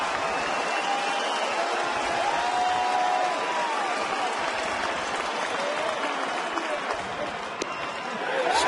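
A baseball crowd of more than 17,000 in Detroit rises to its feet and applauds, a broad, steady roar of clapping and cheering that holds throughout, with a play-by-play voice faintly beneath.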